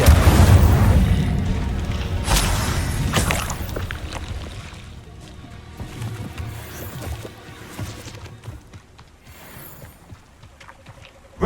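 An Incendio fire spell in the video game Hogwarts Legacy bursts with a loud whooshing boom, followed by crackling, rumbling flame and further softer impacts as the sound gradually dies down.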